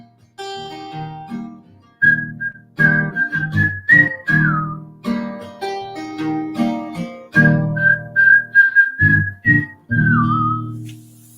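A person whistles a loud, clear melody alone, with phrases of rising and sliding notes repeated over several seconds and short pauses between them, heard close up.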